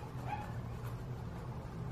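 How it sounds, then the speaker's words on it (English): A small dog next door yaps and whimpers in the background, faint and distant, with a couple of brief higher cries over a steady low hum, no talk. "Pardon the yappy dog next door."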